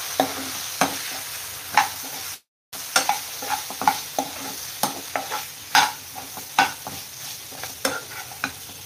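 Chili powder and turmeric stirred into hot oil for methi aloo, giving a steady close sizzle under repeated sharp spoon scrapes and clicks against the pan, with one brief dropout early on and no voices.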